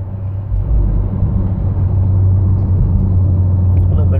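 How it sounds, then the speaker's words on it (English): Tire-to-road noise inside a 2014 Toyota Highlander driving on a regular street: a loud, steady low rumble that holds evenly throughout. "it's a little road noise, tire to road"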